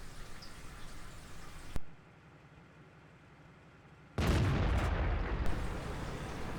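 A World of Tanks tank gun fires, a sharp loud blast cutting off a rumbling battle ambience, followed after a quiet pause by another heavy, booming burst that lingers with rumbling noise.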